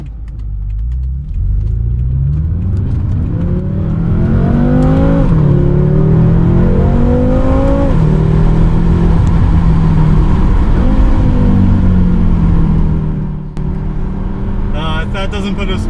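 A BMW M6 Gran Coupe with a 560 hp engine accelerates hard, its loud, close rumbling exhaust note rising in pitch through several quick upshifts, each gear change followed by another climb.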